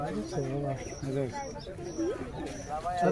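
Low, rounded pigeon coos repeat several times in a steady rhythm, close by, with a person talking over them throughout.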